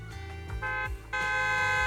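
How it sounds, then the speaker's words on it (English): Trucks sound a horn in the video game Zenless Zone Zero, a loud sustained honk swelling in steps and holding steady as the vehicles roll into an open area. "A loud honk echoes as several trucks with the Leaps and Bounds logo drive into open area."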